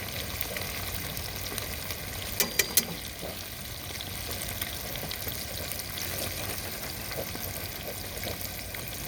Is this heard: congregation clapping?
no